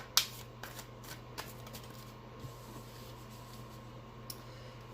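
Tarot cards being shuffled and drawn by hand in a quiet room: a sharp riffle at the start, then soft scattered flicks and slides of card stock over a steady low hum, with no talking.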